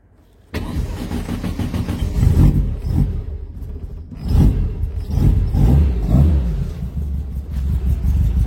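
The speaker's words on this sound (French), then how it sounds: "on va tenter un cold start, hein. Mettre 2-3 coups de gaz" A VW Beetle air-cooled engine cold-starts after brief cranking, then settles into a loud, close idle with several revving throttle blips; the throttle linkage of the carburettors is worn.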